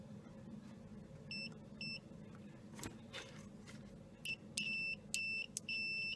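A multimeter in continuity test mode gives short high beeps, first two quick chirps and then a run of longer tones near the end, over a quiet background with a single sharp click.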